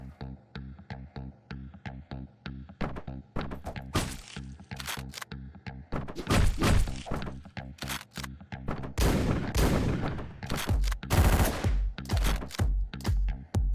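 Rapid gunfire from the top-down action video game Hotline Miami, dense bursts of close, loud shots in quick repeated volleys, some rattling like automatic fire, with game sounds in between and no talk.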